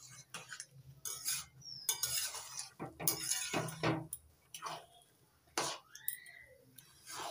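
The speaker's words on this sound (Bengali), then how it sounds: "একটু নাড়িয়ে নিচ্ছি।" Utensil scraping and stirring in a pan of moong dal and dalia khichdi, with intermittent clinks and scrapes in uneven bursts, close and moderately quiet with a faint background hum.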